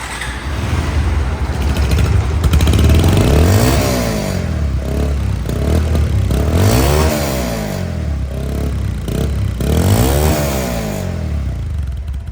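A Bajaj Pulsar DD ABS motorcycle engine, second-hand bike, is revved loudly up close in three distinct rising-and-falling throttle sweeps over a steady running drone.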